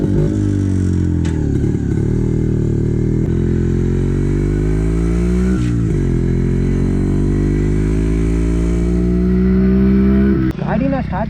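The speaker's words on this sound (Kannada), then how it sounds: "ಈ ಬೈಕ್ನಲ್ಲಿ ನಮಗೆ 250cc single cylinder hair cooled dual silencer ಬರುತ್ತೆ." Yezdi 250D motorcycle with a 250cc single-cylinder air-cooled engine and dual silencers runs loud and close in a steady, throbbing idle with slight rises in pitch, while a voice talks over it near the end.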